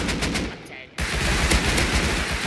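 Rapid AK rifle gunfire in the survival video game Rust, a dense burst of automatic shots with a brief gap near the start, loud and close.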